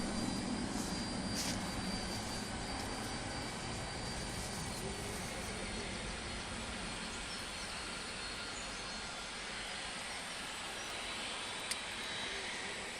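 An Emirates airliner taxiing out at Manchester Airport, a steady, fairly quiet jet engine hiss and rumble heard from a distance, continuous and without voices.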